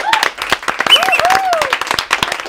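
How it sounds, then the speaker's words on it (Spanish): A radio studio audience applauds for Arturo Valls: brisk, close clapping from a small crowd that runs for a couple of seconds, with voices talking and calling out over it. "Un aplauso para Arturo Valls."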